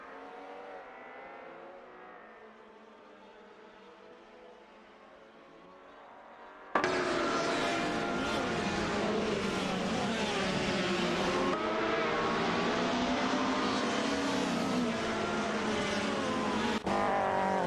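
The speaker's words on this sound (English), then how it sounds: "we're just watching some speedy AI cars tear it up" AI race cars in a video game roar past with high-revving engines, a quieter engine drone first and then a sudden loud wall of racing engine noise that holds steady for the rest of the stretch, with no voices.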